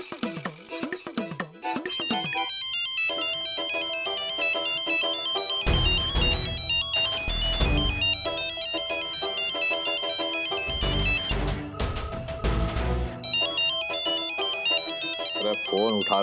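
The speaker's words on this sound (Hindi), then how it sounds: "अरे फोन उठा लो महाराज," A mobile phone plays a melodic, repeating electronic ringtone loudly and continuously, with brief pauses between phrases and some talking around it.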